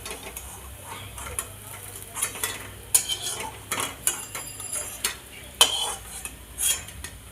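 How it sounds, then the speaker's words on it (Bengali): Fat fritters frying in oil, a steady crackling sizzle punctuated by frequent clinks and scrapes of a utensil against the pan, close and moderately loud. "এরকম করে আমি সব বড়াগুলো ভেজে নেব।"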